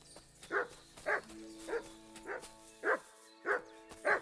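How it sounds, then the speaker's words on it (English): Dog barks ring out seven times at steady intervals, each bark loud and close, over faint ambient music in Kingdom Come: Deliverance II. "Good dog, Mutz."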